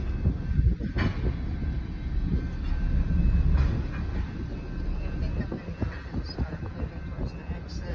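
A freight train at a road crossing rumbles past while slowing, with continuous low rolling noise and some wheel clatter, heard from nearby.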